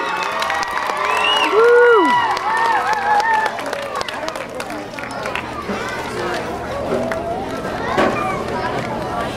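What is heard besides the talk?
applause and cheering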